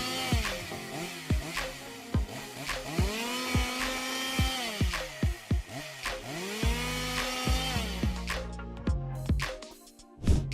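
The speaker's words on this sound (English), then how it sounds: "O64 AV chainsaw roars to life in the heart of the dense forest, easily cutting through towering tree trunks" A Stihl 064 AV chainsaw cutting through large tree trunks in a dense forest, its engine loud and close, revving and bogging repeatedly with rising and falling whines as the chain bites, then dropping near the end.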